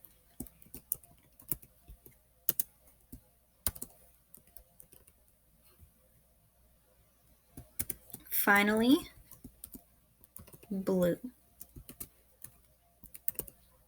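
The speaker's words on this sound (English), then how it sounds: "I know you can all hear my typing" Scattered keyboard clicks and key taps, light and irregular, with a brief bit of speech partway through.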